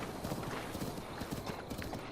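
A horse's hooves clip-clop in a steady, quick rhythm in Zelda Breath of the Wild, fairly faint and close, with a low background hum.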